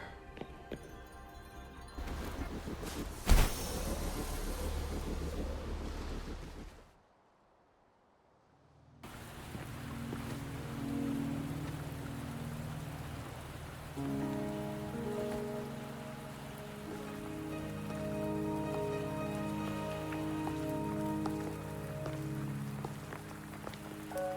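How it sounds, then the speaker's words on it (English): Rain patters steadily on surfaces in the video game Wuthering Waves, a dense hiss under a brief silent gap, with soft game music tones rising in later. "Are you trapped here by the rain?"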